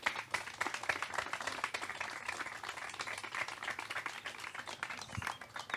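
Steady, moderately quiet clapping from an audience at an agroforestry and livestock farming debate, many hands striking in a dense continuous patter that lasts the whole stretch without talk.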